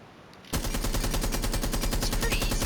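Rapid automatic gunfire from a weapon in Rainbow Six Siege bursts in after a short quiet lead-in, then keeps up as a loud, steady, fast rattle of shots to the end.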